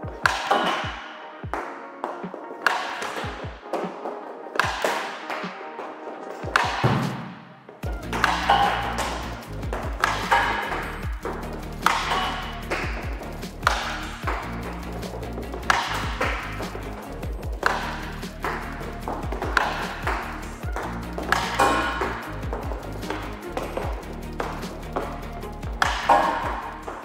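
Hockey pucks struck with a Warrior Covert QR6 Pro stick, a long series of sharp slaps and pings at irregular intervals, some ringing off boards or posts, over steady background rumble after the first few shots; no one speaks.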